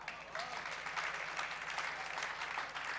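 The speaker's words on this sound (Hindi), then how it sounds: "हम तो जिनवाणी सुना तब भी लोग ताली बजाते, कैसे लोग हैं?" Listeners at a Jain sermon by Acharya Vishuddhasagar clap together in a steady, fairly faint round of applause that continues evenly throughout, heard from a distance.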